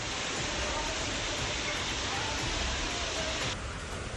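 A flooded river after heavy monsoon rain in Gujarat, its waves surging at storm speed, heard as a dense, steady roar of rushing water that fills the clip, with a voice speaking over it.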